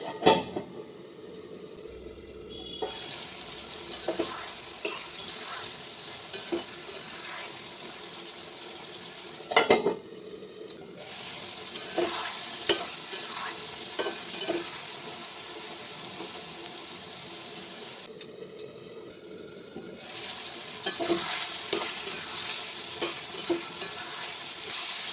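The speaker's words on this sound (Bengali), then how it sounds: "লাউটা কিন্তু একটু ঢেকে ঢেকে কষাতে হবে।" Bottle gourd cooking with fish head and tomato in a pan, a soft sizzle with intermittent stirring scrapes and clanks, moderately quiet, with a couple of louder spoon knocks and no voices.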